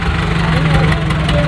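A tractor engine idles at the Red Fort in Delhi, a loud, steady low rumble with a constant hum and faint voices mixed in.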